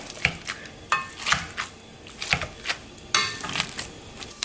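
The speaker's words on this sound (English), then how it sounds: "take my potato masher and just start mashing" Potatoes mashed with a potato masher, a close, regular run of soft squelching thumps and scrapes against the pot, about two strokes a second.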